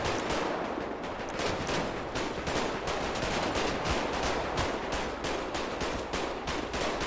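Continuous gunfire in a video game roleplay shootout, dense overlapping shots and bursts that sound loud and close and go on for the whole stretch with no talking.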